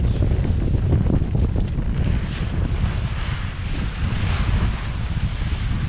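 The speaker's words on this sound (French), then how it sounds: "la mer est légèrement formée. Elle nous freine un petit peu" A sailboat makes about six knots on a windy leg through a slightly rough sea. Loud, continuous wind buffets the microphone over a steady rush of water and waves against the hull.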